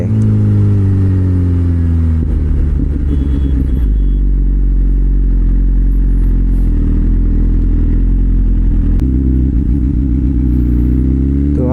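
A BMW S1000RR sport motorcycle, freshly serviced, idles and revs close by, its engine note rising and falling in several throttle blips over a steady loud rumble.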